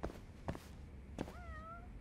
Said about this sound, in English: You can hear the meowing now.